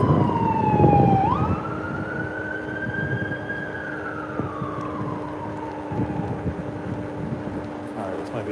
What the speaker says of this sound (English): The ambulance now.